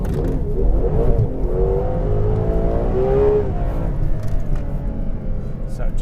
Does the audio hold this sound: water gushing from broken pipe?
no